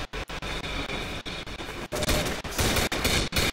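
Powerful gun firing in the zombie video game Codename Cure, a rapid string of loud, close shots in bursts with brief gaps, no talking over it.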